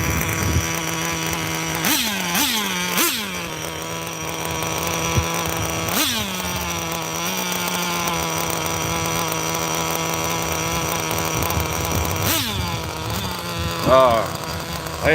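A 27-year-old vintage nitro RC car engine running, a loud, high buzzing whine held steadily throughout, with several quick revs that rise and fall back to idle.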